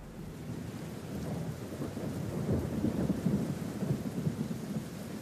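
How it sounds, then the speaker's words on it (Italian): Steady rain pours down in Florida with low thunder rumbling underneath, a dense, continuous wash that swells slightly toward the middle and carries no voices. "Questa è la pioggia della Florida."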